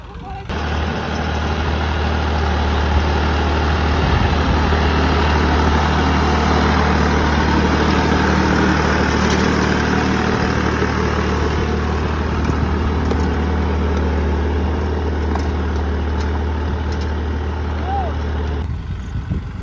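A 4WD tractor engine runs during sowing in heavy rain, holding a loud, steady, close diesel drone with a deep low hum that lasts the whole time.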